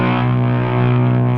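Sustained fuzz guitar tone through a Zoom Ultra Fuzz UF-01 pedal in vintage mode with gain and gate raised, a thick, buzzy, distorted note held steadily and loudly, with no voices.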